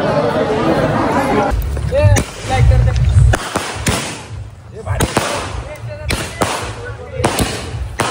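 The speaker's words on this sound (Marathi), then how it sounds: "फटाके फोडायला आलो इथं." Diwali firecrackers pop and bang in sharp bursts amid a chattering crowd, with people talking nearby between the blasts.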